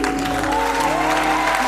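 A church audience in Yaoundé, Cameroon, applauding, a dense, steady roar of clapping that stays close and level, with a sustained musical tone underneath.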